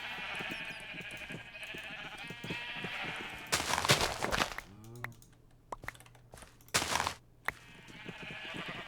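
Blocky sheep in Minecraft bleat in a few short, nasal calls, close and clear, separated by sharp clicks and game sounds, with background music running beneath.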